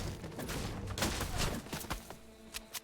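Bursts of gunfire from the video game Fortnite crackle in rapid clustered shots, fairly loud and irregular across a short stretch of squad play.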